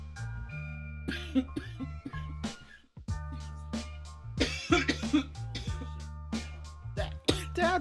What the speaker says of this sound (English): why do you cough so much?